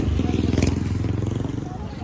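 Motorcycles drone past on a busy road on Siargao Island, a pulsing engine rumble under a voice talking close by.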